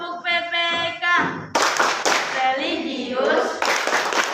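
A group of primary school children claps a quick rhythmic class clap pattern together while voices chant and talk over it.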